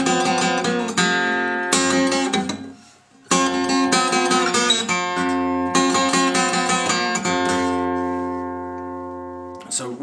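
An acoustic blues guitar line, with the first nine notes picked clearly and ringing against open strings in a steady rhythm. There is one brief gap partway through, and the final chord sustains and fades.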